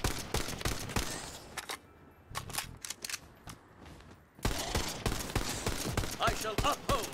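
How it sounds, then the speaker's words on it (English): A hard-hitting gun in Tiny Tina's Wonderlands fires in rapid, sharp cracks, with bursts of repeated shots broken by a brief quieter lull, close and punchy, with a voice now and then among the shots. "This gun hits so damn hard."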